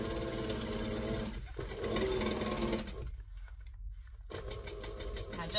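Sewing machine stitching and back-stitching a seam on a craft tote bag, a steady close mechanical whir that drops out briefly partway through and then resumes.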